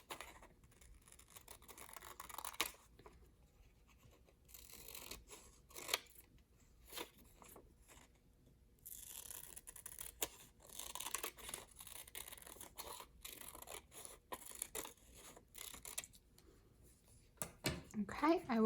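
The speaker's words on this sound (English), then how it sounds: "Hold your paper with your one hand and use your scissors to cut on that line." Scissors snip through craft paper along a drawn line, faint, close crisp cuts coming in irregular bursts, mixed with paper handling and rustling, and soft speech between them.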